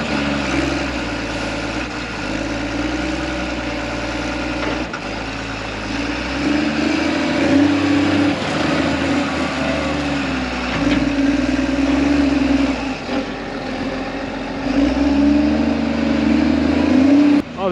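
Farm loader engine running steadily on a snowy farm, a loud continuous diesel drone with slight rises in load and no talk over it.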